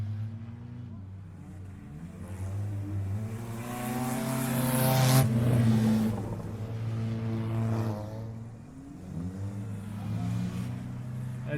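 Race cars running nose to tail around the track at the Old Milwaukee 30 heard from a distance, a steady droning engine roar that swells and fades as the pack passes.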